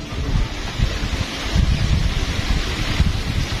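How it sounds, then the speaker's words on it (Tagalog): Strong, steady wind roars and buffets the microphone, with low rumbling gusts and no voices. "ramdam na ang lakas na daladala nitong napakalakas na hangin"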